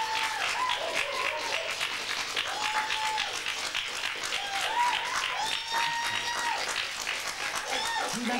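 Studio audience applause on a 1995 MTV music show, a steady wash of clapping and crowd noise lasting several seconds, with voices and tonal sounds faintly mixed in over the top.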